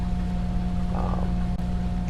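Steady tractor engine drone in a farming video game set in the 1990s, a constant low hum with a faint tonal whine, running alone without talk.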